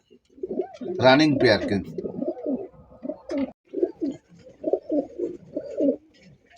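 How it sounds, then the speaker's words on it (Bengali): A pair of red Kalshi Gola Rasgolla pigeons cooing close by, soft low coos repeating under and between steady talk from a man nearby. "বন্ধুরা এখানে একজোড়া কলসি গলা রাসগোল্লা কবুতর আছে, লাল কালার"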